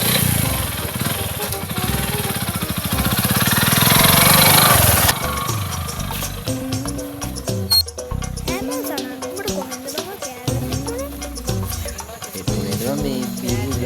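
A motorcycle engine runs loud and close, a steady droning idle that cuts off abruptly, after which people talk over faint background sounds.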